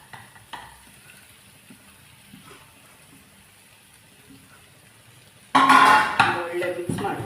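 Boiled potatoes hitting a hot pan and being stirred for samosa filling, with a quiet stretch giving way to a loud burst of sizzling and scraping over the final seconds.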